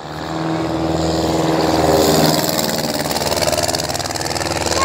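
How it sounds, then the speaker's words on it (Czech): The small piston engine of a Trampík amateur light aircraft runs at an airfield, a loud, close, rattling buzz that rises as it revs up, then holds a steady rough drone with no talk. "Poslechneme si zvuk motoru."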